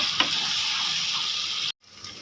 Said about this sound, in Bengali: দিয়ে দেবো সর্ষে বাটা দিয়ে দেবো বন্ধুরা থাকে লতি দিয়ে একটু নেড়ে চেড়ে নেব